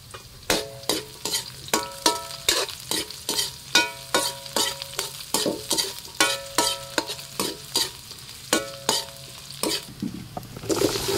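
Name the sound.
onions frying and being stirred in a pan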